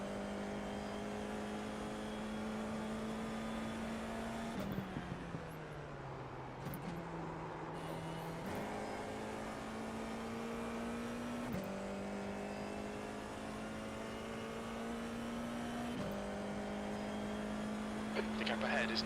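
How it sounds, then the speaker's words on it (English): A Formula 4 race car laps the Okayama circuit, its engine droning in a steady in-car tone that shifts pitch with each gear change and braking dip, while a voice talks over the radio. "The next car is Cooper, car number 9, D license"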